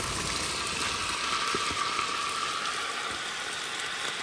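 Vegetables for pepper steak, tossed into a garlic-scented pan after the meat comes out, sizzle steadily at an even, hissing level with occasional small pops.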